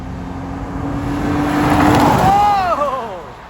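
Nissan Altima engine during a street race, revving hard then dropping in pitch after a missed gear shift; a loud, close engine note with falling tones, under excited voices.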